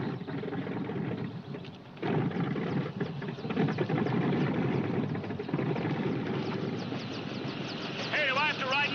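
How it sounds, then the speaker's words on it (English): A police helicopter sits warming up on the ground, its engine whining and rotor chopping steadily for several seconds, with faint voices and a door sliding under the continuous drone. "Warm up the Copter."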